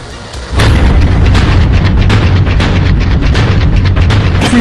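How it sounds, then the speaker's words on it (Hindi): Loud, continuous rumbling booms and crackling blasts, dense and overlapping, with a deep low roar throughout and no talking. "एक के बाद एक बात धमाके हो रहे हैं"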